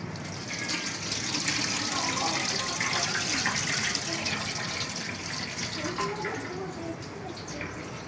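Water is drained from rice that has soaked for two hours for chicken biryani, a steady, close rushing and splashing stream that runs continuously with little change in loudness.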